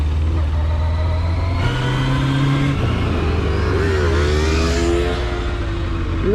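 A motorcycle engine revs loudly and close during wheelie practice on gravel, holding a steady drone, then climbing and dipping in pitch as the throttle opens and shuts.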